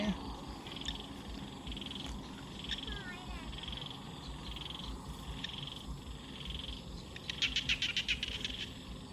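Frogs croaking at night: pulsing, buzzy calls repeat over a busy chorus of night insects, with a louder burst of rapid croaks near the end.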